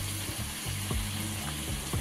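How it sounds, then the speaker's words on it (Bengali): Masala for a vegetarian pointed gourd curry sizzles in a pan under repeated stirring strokes, over a low steady hum. "দেখতে পাচ্ছেন মশলাটা পুরো কষানো হয়ে গেছে"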